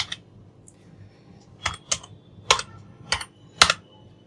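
Someone types a search into a computer keyboard, with a handful of crisp, close keystroke clicks in irregular bursts and little else around them.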